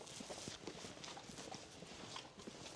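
A racehorse at a jumps-racing stable yard walks with quiet, even hoof clip-clops on a hard surface, soft and somewhat distant, with no talk over it.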